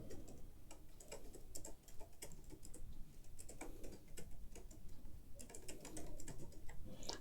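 Quiet, rapid typing on a computer keyboard, a steady patter of soft key clicks with brief pauses, heard close and alone.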